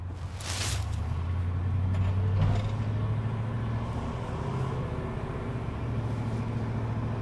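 A 1974 Dodge Monaco Bluesmobile replica out on the road, a low steady engine drone with shifting tonal hum and road noise from inside the car, one brief whoosh early on, no talk.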